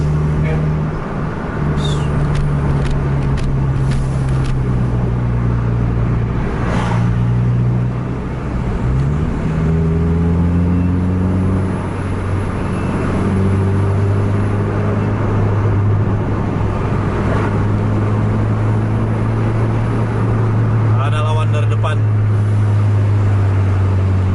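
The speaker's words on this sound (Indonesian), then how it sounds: "Masih padat lalu lintas." Heavy road traffic in Medan-area bus convoy, with several buses and cars rumbling and droning continuously close by, engine tones rising and falling, a horn-like tone and passing vehicles over a steady loud roar, voices talking throughout.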